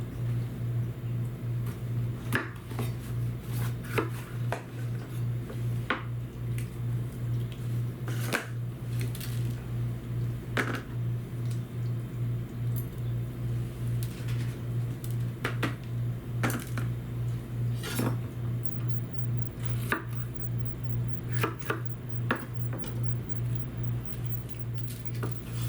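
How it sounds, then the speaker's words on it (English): An 8-inch Redmond chef knife chops peppers on a board, a steady series of sharp, sparse taps and clicks spread over a constant low electrical hum, with no talking. "I'm cutting this on the back side"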